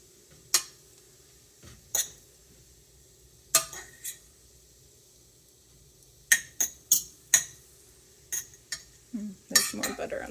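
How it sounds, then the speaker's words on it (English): Cooked couscous being fluffed with butter using a fork, a series of sharp metal taps and scrapes against the pot, spaced irregularly then quickening near the end, quiet background. "I'm just going to put that in, fluff the couscous"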